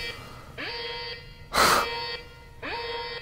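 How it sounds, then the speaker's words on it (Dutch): An electronic alarm beeps in long, steady tonal bursts, three of them with short gaps between, and a sharp breathy burst or gasp in the middle gap. "Nou ja, alarm gaat af."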